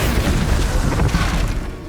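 A Bombarda blasting spell explodes in Hogwarts Legacy, a loud, dense boom with rumbling low end and crackling debris that fills the moment before easing off slightly at the tail.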